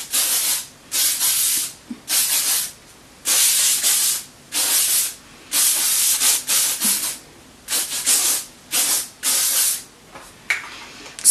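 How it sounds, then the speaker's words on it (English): Volumizing hairspray sprayed over a whole head of hair during a makeup routine, heard as a string of close, loud hissing bursts, each lasting about half a second to a second, separated by short pauses. "I'm just going to spray my whole hair with that just to keep those curls."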